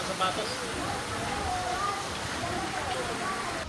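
A natural waterfall at a river farm in Mindanao sends out a steady broadband rush of falling water, with a voice speaking over it.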